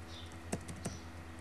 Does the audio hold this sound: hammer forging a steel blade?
no